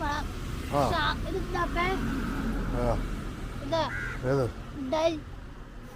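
Crows caw repeatedly in short harsh calls, mixed with a voice imitating the caws over steady traffic rumble outdoors.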